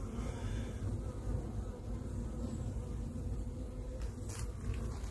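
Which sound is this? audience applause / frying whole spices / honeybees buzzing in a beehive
honeybees buzzing in a beehive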